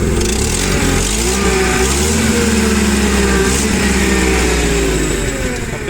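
Nissan petrol engine of a 1.5-ton Japanese forklift idling loudly up close and rising in pitch as the throttle is worked, a dense, continuous mechanical drone with no talking.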